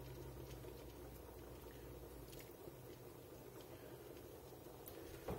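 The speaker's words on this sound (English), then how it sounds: "It's starting to come up to a simmer." Smoky chili broth with hickory-smoked meat simmering in a pot, giving a steady, soft bubbling and burbling that runs continuously at low volume with no voices.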